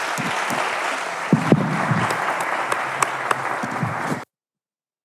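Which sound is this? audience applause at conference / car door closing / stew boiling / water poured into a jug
audience applause at conference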